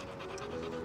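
A dog pants in quick, breathy, even huffs at a playground in a children's TV show, close and clear, alone for under a second.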